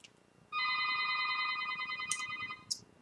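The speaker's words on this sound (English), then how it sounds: "That's the goddamn office phone." An office telephone gives one long electronic ring lasting about two seconds, fairly clear against a quiet room, with a couple of short high chirps near the end.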